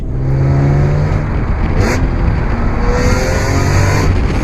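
A BMW E46 M3 engine revs hard and loud, its roar booming and echoing inside an enclosed tunnel, with steady droning tone throughout.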